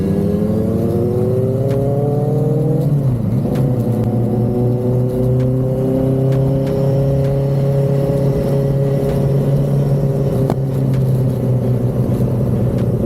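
A BMW S1K motorcycle engine roars steadily while riding, loud and close, with a brief dip in revs around one moment before climbing and holding a sustained drone.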